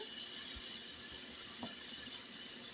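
Water pours steadily into a cooking pot over a meaty ham bone and brown beans, a continuous hissing splash with no talk.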